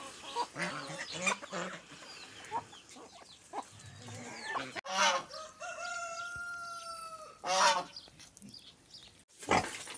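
Chickens cluck and a young rooster crows, close by, amid scattered farmyard noises and faint rustling, at a rural homestead.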